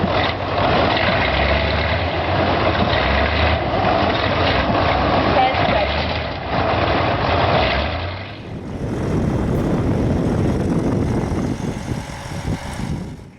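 A heavy truck's Detroit diesel engine drones loudly and steadily, roughly and close, with a shift in tone partway through. The truck is hoisting heavy hydraulic tanks, and people speak over parts of the sound.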